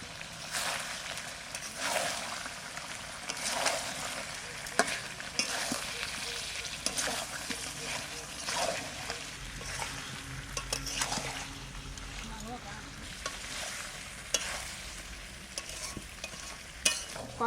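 Potato pieces fry and sizzle steadily in a pan for a spiced chicken dish, with repeated spatula stirring and scraping throughout, close up and fairly loud, no talking.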